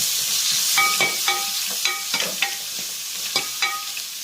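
Grated coconut and curry leaves stirred in a frying pan for a jackfruit-seed thoran, with a loud, close sizzle broken by about a dozen sharp metallic scrapes and taps of the spoon against the pan.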